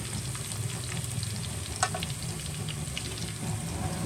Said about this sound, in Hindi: ये इसका लहसुन का तड़का हम बना रहे हैं